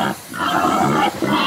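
A young man turned into a pig by the sorcerer of Pradel gives a run of close, rough pig grunts and snorts, rising and breaking off briefly near the end before resuming.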